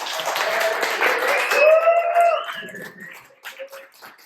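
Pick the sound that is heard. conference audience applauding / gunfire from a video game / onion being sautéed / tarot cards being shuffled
conference audience applauding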